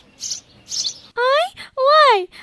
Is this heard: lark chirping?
yes